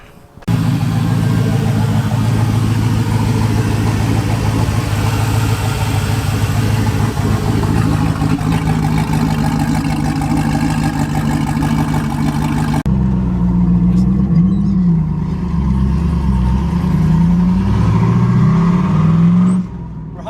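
A V8-swapped Volvo 960 drives on the road, its engine droning loud and close throughout, with a gear change about two-thirds through followed by a wavering, revving engine note.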